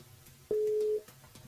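Single telephone line tone on a call to a radio listener, one steady half-second beep, clear and isolated against a quiet background.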